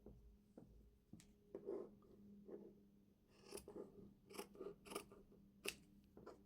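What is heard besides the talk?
scissors cutting fabric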